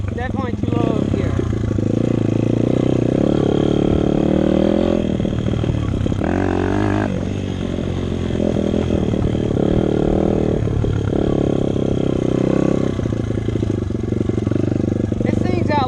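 A dirt bike engine drones continuously while being ridden, with revs surging and easing and a rough clattering edge under steady wind rush.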